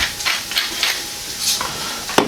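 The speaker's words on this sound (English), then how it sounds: "Give that a stir." Gnocchi and Italian pork sausage being stirred in a hot pan, with a few scraping strokes of a utensil over a soft sizzle and a sharp knock near the end.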